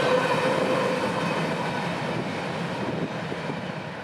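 A CSX freight train of about 5,000 feet of empty grain hoppers, led by a single GEVO locomotive, rumbles past steadily and loudly with continuous rolling wagon noise and a faint tonal whine, and no voices.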